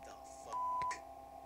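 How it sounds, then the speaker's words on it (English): A censor bleep tone made in Audacity sounds as a single short, pure, steady beep of about half a second over faint background noise. "if you just want to make a beeping or blooping sound because you want to be able to cover things up"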